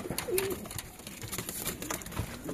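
An old pair of Madrasi pigeons coo in short throaty phrases, close and fairly quiet, with brief gaps between calls.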